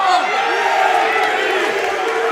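A crowd at a high school wrestling match cheers and shouts continuously, a dense roar of voices with whoops, under a commentator's talk.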